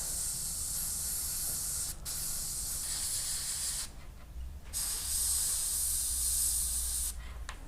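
An airbrush sprays brown paint onto a Tamiya 1/48 German anti-tank gun model, giving a steady close hiss that cuts off in three brief pauses between bursts.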